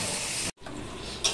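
Onions and tomatoes fry in a pan with a close, even sizzle that cuts out for a moment and then resumes.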